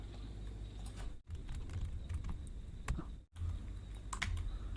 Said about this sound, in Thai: เดี๋ยวผมพิมพ์ข้อความแป๊บหนึ่งครับ